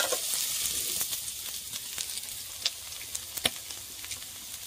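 Pork intestine fries and sizzles steadily in a pan, with scattered clinks and scrapes of stirring over the bright hiss, close and unaccompanied by speech.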